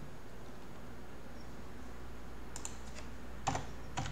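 Typing on a computer keyboard while setting an IP address in Windows: faint sparse key clicks over quiet room hiss, growing into a few sharper taps near the end.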